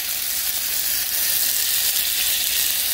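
Ruffed grouse pieces seasoned with garlic and Frank's sizzle in a hot pan, a steady close hiss of frying that runs for the full length without pause, with no talking.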